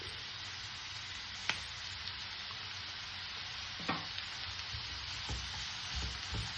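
An onion mixture with curry leaves sautéing in a pan, a continuous soft sizzle under a few scattered stirring scrapes and light knocks of a spoon, no talking.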